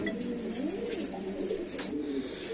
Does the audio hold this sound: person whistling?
no